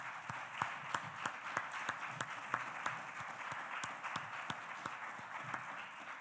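An audience at a convention applauds winners with a steady patter of clapping, a thin, fairly distant crowd sound with individual claps standing out in a loose rhythm throughout.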